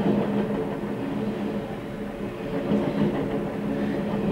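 A long CN freight train rumbles steadily past close by, a dense continuous roar with rolling rattles and clatter, no break for the whole stretch.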